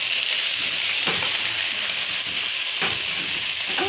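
Managu vegetables with onions sizzling and being stirred in a sufuria. The frying hiss is loud and constant, and a few scraping stirs stand out above it.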